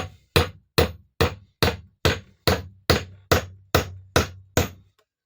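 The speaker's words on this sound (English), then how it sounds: "Usual claw hammer, ball peen hammer would do it." A hammer drives metal spikes into a wooden bowl-turning mandrel with twelve sharp, evenly spaced blows, each ringing briefly, loud and close.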